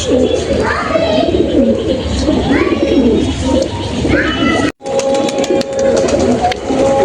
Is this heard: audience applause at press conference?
no